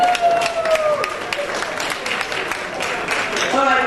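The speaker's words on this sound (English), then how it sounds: "So please applaud our MC again." An audience claps in a sustained round of applause, a dense crackle of many hands, with voices and a whoop mixed in.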